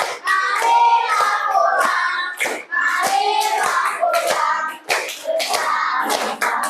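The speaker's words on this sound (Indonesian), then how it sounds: "tepuk tangan" Children in a primary school class clap rhythmically while singing together in a group. Their voices dominate, with sharp hand claps landing between phrases.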